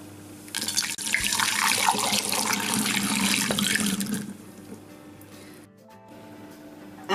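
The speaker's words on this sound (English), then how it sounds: "Just pour it into it with a funnel." Homemade almond milk poured through a funnel into a glass bottle, a steady liquid stream running for a few seconds, then tapering off into quieter trickles and drips.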